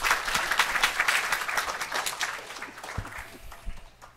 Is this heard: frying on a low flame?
no